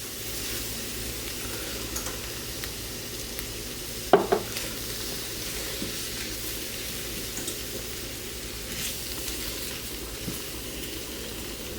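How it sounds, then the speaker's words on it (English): Flour being stirred into a sauce as it cooks in a pan: a soft continuous sizzle with one sharper scrape of the spoon near the middle and faint stirring sounds throughout. "Just stir it in good and let it cook for a minute"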